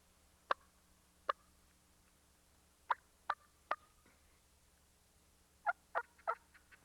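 Short, sharp wild turkey hen calls in scattered bursts, a couple of single notes then a quick cluster, reasonably clear over quiet outdoor woodland background.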